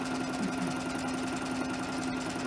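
A sewing machine runs steadily, stitching quilt pieces for a half-square-triangle tree quilt with white thread, a close, continuous motor hum with a fast, even needle rhythm and no talk.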